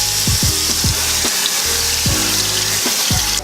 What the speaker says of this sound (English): I'm gonna go ahead and wash this off.